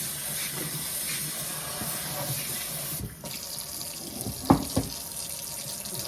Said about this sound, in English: Good spray the inside just to get that last little bit off.